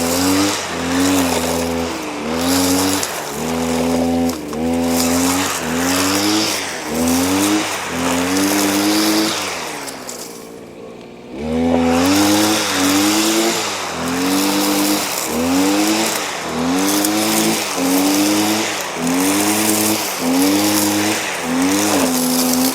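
Max Garden motorized brush cutter cutting grass on a gently sloped patch, its small two-stroke engine droning loud and close with rhythmic surges, briefly dropping away near the middle before roaring back.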